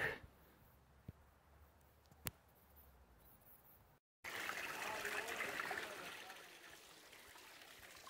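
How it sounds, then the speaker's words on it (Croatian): Near silence with a few faint clicks, then steady close spring water trickling and splashing from its source continuously for the rest of the clip, at the Čvarinac picnic area near Gornjak, Serbia. "Kako ide voda sa izvora"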